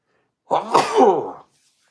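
A single sharp sneeze bursts out close by, with a quick intake and a forceful breathy release lasting about a second, then silence.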